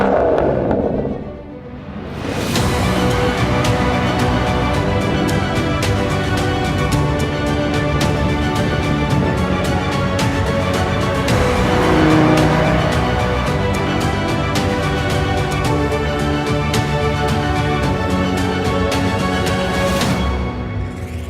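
An Aston Martin DBS with a 6-liter engine driving, its loud, sustained engine roar rising and holding under acceleration for about twenty seconds, heard close from inside or beside the car, no talk.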